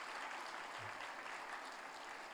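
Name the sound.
congregation applauding in church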